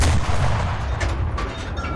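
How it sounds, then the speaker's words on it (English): Gunfire in the World War II shooter game Enlisted, set in the Battle of Berlin, comes as dense booming blasts and rapid cracks that overlap in a loud, continuous battle din. "That guy is shooting me"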